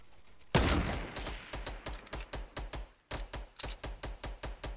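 Loud close gunfire in a duo battle-royale shooter game, with one sharp blast followed by rapid, evenly spaced bursts of shots that pause briefly midway and then resume.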